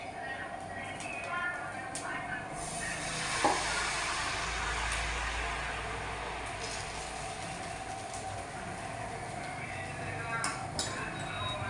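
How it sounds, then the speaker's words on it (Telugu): Dosa batter sizzling steadily in ghee on a hot pan, a continuous bright hiss with faint scraping, heard under a person talking. "నూనె లేదు ఇవాళ నెయ్యితో దోశ వేస్తున్నాను"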